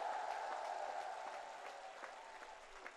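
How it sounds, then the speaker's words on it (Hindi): A large outdoor crowd at a political rally applauds for the nation's scientists, a broad, steady wash of clapping heard at a distance and slowly fading, with no voices over it. "भाइयों बहनों, जोर से तालियां उन वैज्ञानिकों के नाम पर बजाइए।"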